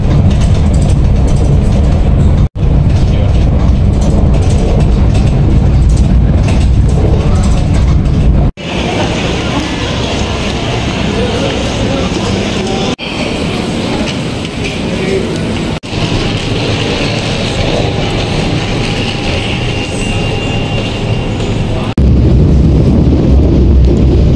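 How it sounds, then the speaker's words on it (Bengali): A train arriving at a station, heavy continuous rumble and mechanical clatter, loud and close throughout with abrupt shifts in tone. "তখনই দেখি ট্রেন আসতেছিল।"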